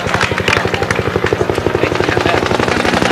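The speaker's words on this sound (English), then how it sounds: "Flower drop from the helicopter wing of the Philippine Air Force" A Philippine Air Force helicopter passes low overhead during a commemoration at Mt. Samat, Bataan, its rotor thudding in a loud, fast, steady rhythm under a droning turbine whine.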